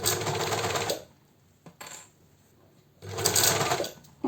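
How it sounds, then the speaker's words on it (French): Overlocker serger stitching T-shirt fabric, its cutting blade trimming the edge, runs in two short whirring bursts close by, separated by a quiet pause with a small click. "alors déjà on le fait sur la machine, mais sur la surjeteuse"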